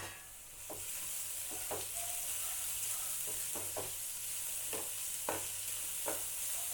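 Vegetables for veg kuzhi paniyaram sizzling steadily in a hot pan, a continuous bright hiss with occasional soft clicks of stirring, no voices.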